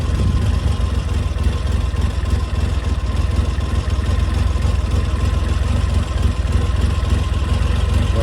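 Triumph Trident T150V motorcycle engine idling steadily, a continuous, fairly loud, even rumble for the whole stretch with no talk.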